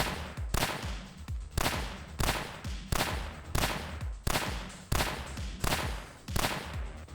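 Gunfire rings out while zombies are shot in the video game Terminus: Zombie Survivors: about ten sharp, evenly spaced shots, each with a short echoing tail, in a steady rhythm and with no talk.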